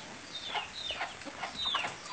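Chickens cluck faintly in the background during pig butchering, a few short high squawks and clucks scattered over quiet ambient noise.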